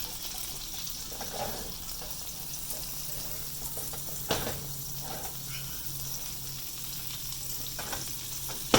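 Apple pancakes frying in butter and grapeseed oil in a skillet, with a soft continuous sizzle and a few scraping knocks as the fat is moved around, close and low in level.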